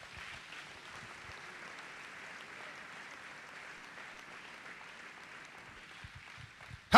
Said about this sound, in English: Somebody clap your hands to the Lord tonight.